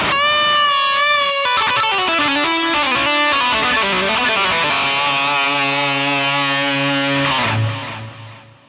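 Electric guitar plays a fast run of quick legato phrases, notes flowing smoothly into one another with hammer-ons and pull-offs, loud and solo, before settling on a sustained note that fades out.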